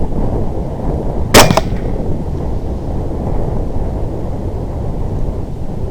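A single sharp gunshot cracks out during a hog hunt, loud and close, standing out briefly against steady low wind rumble that continues before and after.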